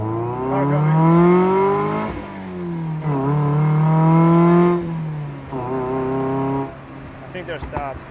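A car engine approaches on the Tail of the Dragon mountain road, its revs climbing and falling in strong surges between gear changes, loud and near, while people talk over it.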